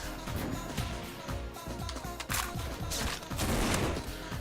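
Repeated bursts of mortar fire inside a tunnel in a 100-player online shooter game, sharp reports clustered in quick succession over a dense, echoing rumble, fairly loud and continuous with no talk.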